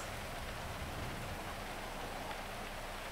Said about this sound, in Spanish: como está lloviendo solamente me como algo